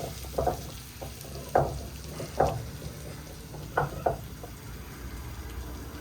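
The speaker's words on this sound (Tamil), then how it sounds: "அடுத்து இஞ்சி பூண்டு பேஸ்ட்டு போட்டு நல்லா பச்சை வாசம் போகிற அளவுக்கு கிளறி விட்டுருச்சு." Ginger garlic paste frying in a pan for a chicken fry, with a steady sizzle broken by several distinct scraping stirs of a spoon against the pan.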